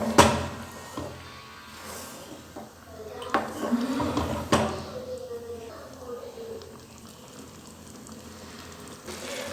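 A spoon stirs mixed dal in a metal pot while making dal makhani, with scraping clinks and knocks against the pot sides. Several louder clanks sound near the middle, and the clatter stays close and moderately loud throughout.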